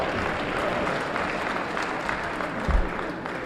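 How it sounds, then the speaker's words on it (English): Moderate audience applause at a community debate in Harlem, steady clapping heard from a distance with a brief louder thump partway through. "All right, give a round of applause."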